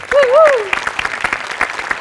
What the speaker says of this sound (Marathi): गोस्वामींसाठी आणि प्रथमेशसाठी भयंकर टाळ्या